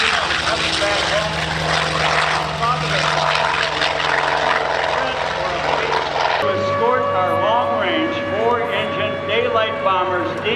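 Propeller-driven P-51 Mustang piloted by Chuck Yeager at an airshow, a loud sustained engine drone that shifts pitch partway through as the aircraft passes, with crowd and background noise around it.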